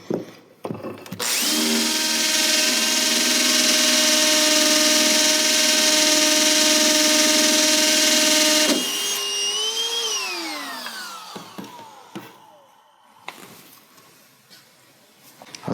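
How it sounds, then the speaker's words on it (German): A power drill bores the third hole in a wall to mount a Clock Work 2.00B clock, whining loudly and steadily for about seven seconds before winding down with a falling pitch, followed by faint clicks. "Das dritte Loch bohren wir, indem wir den Stift durch das zweite durchstecken, das Werk so sichern und dann das dritte Loch bohren."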